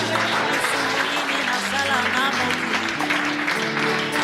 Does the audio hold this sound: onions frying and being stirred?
no